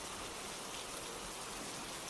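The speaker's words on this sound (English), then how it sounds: "the rain is starting to clear up a little" Steady rain falls and patters on surfaces in an even, soft wash of noise, with no voices over it.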